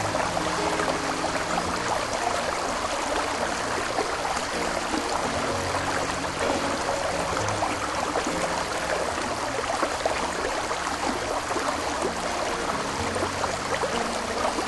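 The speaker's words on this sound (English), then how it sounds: "The lower Yellowstone Falls of Yellowstone National Park." Lower Yellowstone Falls in Yellowstone National Park thunders as a steady, dense roar of falling water, constant and loud throughout with no voices.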